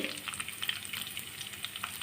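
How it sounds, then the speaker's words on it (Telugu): Steady close-up sizzle of spices tempering in hot oil for a tomato-coriander chutney, a continuous crackling hiss with small pops scattered throughout, no voices. "తాలింపు వేగుతుంది కదండి"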